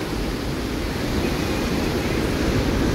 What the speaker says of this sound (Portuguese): Olha só essas ondas.